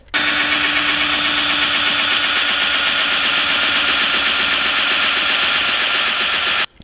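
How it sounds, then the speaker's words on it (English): A power drill fitted with a countersink bit bores into an ice shelter ski, giving a loud, steady whine that runs unbroken for several seconds and then stops abruptly. "now that all those holes are drilled, I'm gonna go with the countersink bit"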